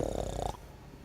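A person imitates snoring with a rough, rasping low rumble for about half a second, then it drops to quiet breathing.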